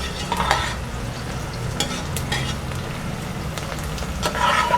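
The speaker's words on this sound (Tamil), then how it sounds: "இப்போ வெங்காயம் நல்லா வதங்கிருச்சு." Onions being stirred and sautéed in a pan for Tamil-style tomato rice, a steady close sizzle with scraping stir strokes throughout, loudest near the end, no talking.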